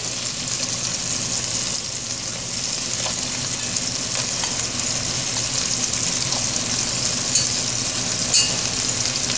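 Swedish meatballs sizzle and fry steadily in a hot pan, a continuous close crackle with occasional small pops and stirring scrapes, no voices.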